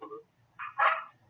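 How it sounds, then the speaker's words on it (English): A small dog next door yaps a few times, sharp high barks in a quick cluster heard at a distance, with a low background rumble underneath and no talking. "I'm hearing some yapping dogs."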